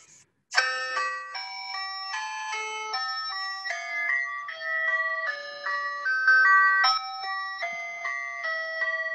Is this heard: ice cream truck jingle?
yes